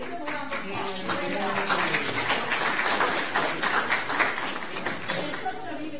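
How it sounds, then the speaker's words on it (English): An audience gives helpers a round of applause at a community program. The clapping is a continuous wash heard under and alongside people talking. "Let's give them a round of applause."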